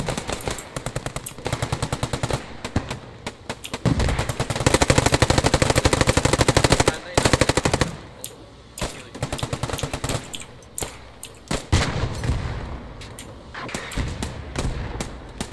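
Rapid bursts of machine-gun and rifle fire at enemy infantry in the WWII shooter Post Scriptum, loud and near, with sustained volleys broken by short pauses and no talk.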